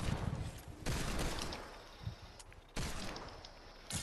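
Rapid bursts of video game gunfire from a Knockout Shuffle match, loud sustained volleys broken by two brief gaps, with a single sharp shot in between and no talking.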